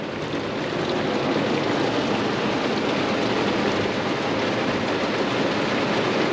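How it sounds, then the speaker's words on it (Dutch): Heavy rain hammers a camper van's roof and windscreen in a continuous, dense, close roar that stays loud and steady throughout, with no voices. "er loopt gewoon een rivier over het dak heen en over het voorraam heen"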